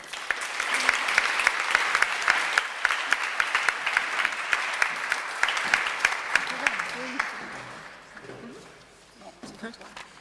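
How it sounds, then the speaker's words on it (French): Audience applause at an architecture award ceremony at the Pavillon de l'Arsenal in Paris, sustained dense clapping from a seated crowd that tapers off near the end. "Je vous demande d'applaudir Anna Schabel."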